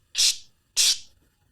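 Two short, loud bursts of bright static hiss, each sharply starting and fading away within half a second, serve as a sound effect for a molten mass moving through the sky, with silence between and no voices.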